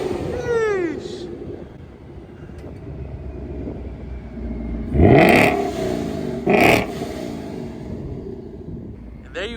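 A 2018 Mustang GT with its exhaust valves fully open revs in two sharp, loud bursts spaced about a second apart, its deep rumble rising and falling over a low idle.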